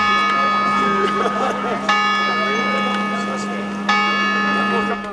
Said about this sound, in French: Dès 9h, les cloches ont retenti.